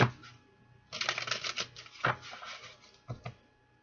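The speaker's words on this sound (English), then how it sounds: "One more shuffle." A deck of playing cards being shuffled nearby: a soft opening riffle, then a dense flutter of card edges lasting about a second, followed by a few short taps and settling clicks. No one speaks during it.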